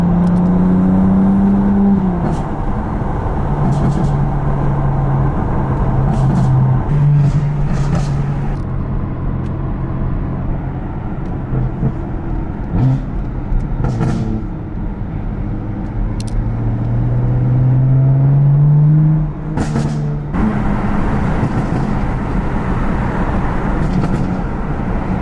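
A BMW F80 M3 cruises through traffic, its engine and exhaust rising and falling through repeated gear pulls and revs, loud and close, with gusts of wind buffeting over the drive.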